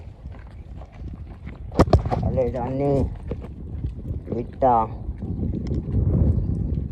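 A mare's hooves clop slowly on hard ground while a person talks and coaxes her along by the bridle.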